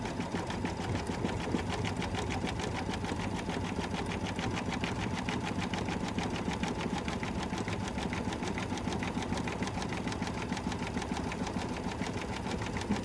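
A sewing machine runs steadily for about thirteen seconds, stitching through a small quilted mug rug, its fast even mechanical whir continuous and close with no pauses or talk.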